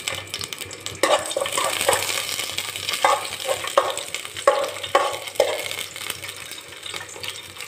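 Whole spices (a bay leaf, large and small cardamom, cloves, pepper and cinnamon) fry in hot oil in a pan, giving a steady, close, dense crackling sizzle with bursts of stirring scrapes and no talking.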